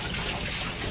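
Rainwater dripping and trickling through a waterlogged roof during heavy Delhi rain, a steady close wash of running, splashing water with no distinct separate drips.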